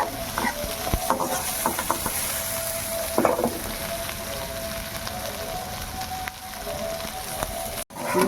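Bitter gourd and shrimp fry in a pan, making a constant crackling sizzle with scattered clicks and spatula scrapes as they are stirred. A brief knock near the end, and no voices.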